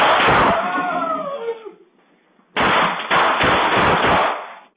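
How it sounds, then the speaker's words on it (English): Gunshots are fired inside a home in Rockford: a dense burst of loud, sharp cracks, a brief silence, then another rapid volley of bangs from close by. "Dozens of gunshots ring out at a Rockford home."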